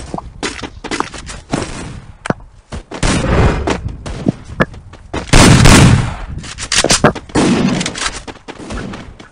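Double-barrel shotgun fire in a squad-match video game: a loud, dense run of sharp blasts and bursts of gunfire, with the heaviest burst near the middle and no talk standing out.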